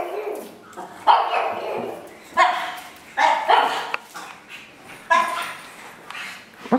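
A dog barks repeatedly in short loud bursts, about five or six spaced barks with some yippy, whimpering edges, close by, with a little background voice between them.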